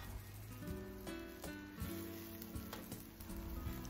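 Okonomiyaki on a hot griddle in a Showa-style Kyoto restaurant, a quiet steady sizzle and crackle of frying batter just after the flip, with faint background music.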